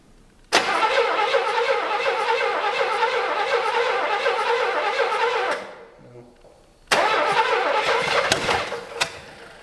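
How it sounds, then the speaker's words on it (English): A V8 Buick LeSabre left sitting for 34 years cranks hard and backfires up through the carburetor, loud near churning that stops abruptly, falls quiet for a second, then resumes with sharp pops. "it's backfiring up through the carburetor"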